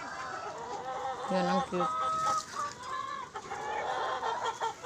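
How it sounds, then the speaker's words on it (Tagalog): Bantam chickens cluck softly in a farmyard, with a few short bird calls and quiet background noise, while a person talks over them at moderate distance. "Ang cute ng mga bantam ko, yan."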